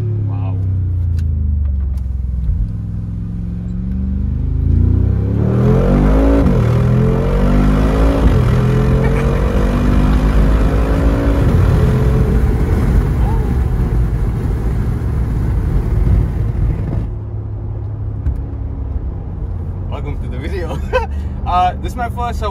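A Mercedes G-Wagon engine drones steadily at low pitch while driving, loud and continuous throughout, with speech heard over it.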